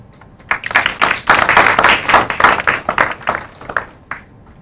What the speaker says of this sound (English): ask for a big applause for 17